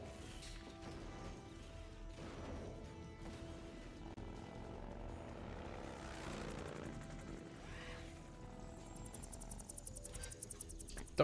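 Helicopter rotor chopping steadily in Metal Gear Solid 3, a video game, mixed with in-game clatter and crashes under music, ending with rising synthetic tones.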